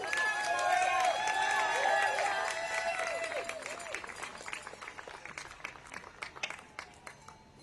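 Audience at a rally applauding survivors and supporters, a dense burst of clapping with some cheering that fades gradually over several seconds.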